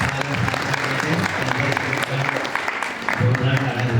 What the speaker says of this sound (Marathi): जोरदार टाळ्या झाला पाहिजे।